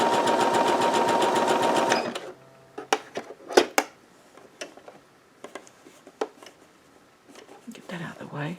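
A Singer Heavy Duty 6800C sewing machine stitches a zigzag in a fast, even mechanical chatter for about two seconds. After that come scattered clicks and handling taps, and a person speaks.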